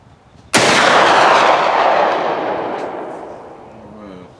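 A single loud, sharp black-powder-era rifle shot cracks out close by at an outdoor shooting match, followed by a long rolling echo that slowly fades away.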